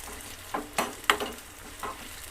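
An onion tempering fries in hot oil for smoky brinjal bharta, giving soft, quiet sizzling with a few sharper crackles and pops spaced irregularly, close by and without talk.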